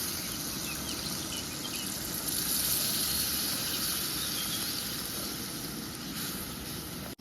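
Water poured into sizzling Rui fish masala in a pan gives a loud, continuous close hiss and bubbling that swells midway and then cuts off abruptly.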